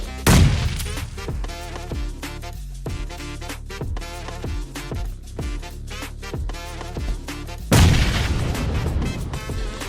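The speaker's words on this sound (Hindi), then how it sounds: "मैं इस पर ग्रेनेड का ट्राई करता हूँ काफ़ी टाइम तक" Grenades explode in the video game PUBG. Two big booming blasts open and close a stretch of rapid, repeated gunfire bursts, all loud and close, with no voices.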